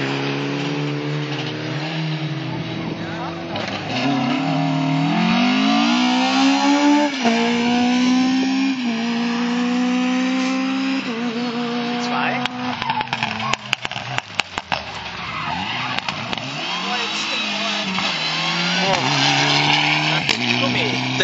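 A rally car at the Grabfeld Rallye drifts through a corner, its engine revving hard and sweeping up and down in pitch close by, with tyre noise, while spectators talk over the passing car.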